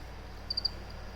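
Crickets kept as live feeder insects chirp in a quick, faint trio of short pulses against a quiet indoor background.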